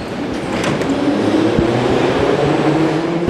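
Steady rumble of a metro train riding through the Samara underground, with a constant low hum, faint rail clicks and a droning motor tone throughout, loud and continuous.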